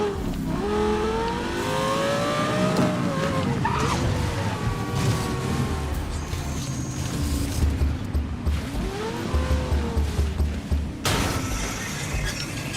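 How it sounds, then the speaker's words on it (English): A V10-powered supercar racing in the video game Need for Speed Most Wanted (2012), its engine droning and rising through revs with shifting pitch, joined by whooshes and a few knocks, loud and continuous throughout. "Instead of using a hypercar, I'll use another supercar, a V10 powered supercar at that."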